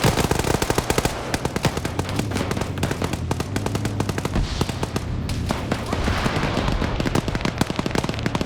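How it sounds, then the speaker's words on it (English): Rapid bursts of automatic gunfire and single shots crackle continuously in a multiplayer shooter match, loud and dense, with indistinct voices faintly underneath. "Yes, they were shooting each other."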